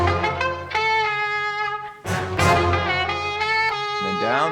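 Punchy brass stabs and a saxophone line play together in an Arabic, Middle Eastern scale, bright and melodic in a dense electronic production, with short accented hits over sustained phrases.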